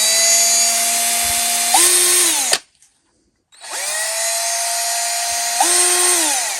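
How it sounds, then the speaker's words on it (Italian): A Topshak 20V cordless drill driver spins a straight bit in two loud, close runs. Each whine shifts pitch partway through and then winds down, with a short silence between the runs. "guardate questa punta sull'avvitatore più piccolo"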